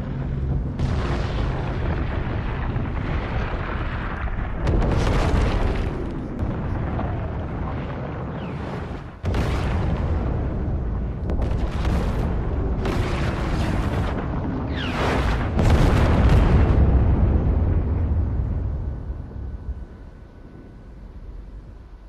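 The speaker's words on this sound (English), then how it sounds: "Tilted has been destroyed." Explosions tearing down Tilted Towers in Fortnite: a long, loud roar of rumbling blasts and crashing debris, with several sharp booms standing out before the noise eases off toward the end.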